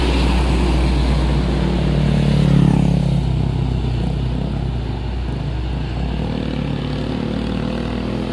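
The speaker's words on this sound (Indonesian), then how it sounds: "Dam truk pasir." A large sand dump truck passes on a road, its heavy engine a loud, continuous low rumble that swells as it comes closest, then stays steady as it moves away.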